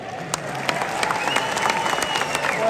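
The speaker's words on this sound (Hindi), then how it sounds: "ज़रा दिल खोल के तालियां बजाइएगा" An audience at a mushaira applauds, a steady wash of clapping with a few louder individual claps, moderately distant and building slightly toward the end.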